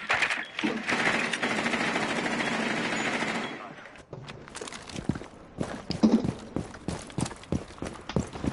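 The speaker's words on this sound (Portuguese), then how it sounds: "Eles estão atirando só com a arma." Gunfire in a PS4 video game: a dense burst of rapid automatic fire lasts several seconds, then gives way to scattered sharp single shots and clatter, with voices talking over the action.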